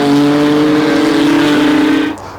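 Race cars take a corner on a racing circuit, with a loud, close, steady engine whine holding a high pitch for about two seconds before it cuts away abruptly.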